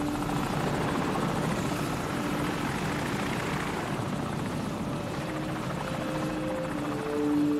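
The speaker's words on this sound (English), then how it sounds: "Enemy helicopter! Get down!" An enemy helicopter in the video game Call of Duty 4 flies overhead, a loud sustained rotor thrum and whine filling the scene with no voices.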